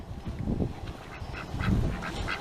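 Turkeys on a windy farm give a few short calls, moderately close over a rushing background of wind.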